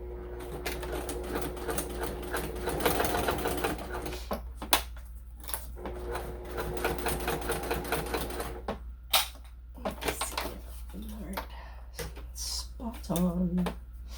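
A sewing machine stitches a bag in several bursts of rapid mechanical chatter, separated by short pauses and a few handling knocks.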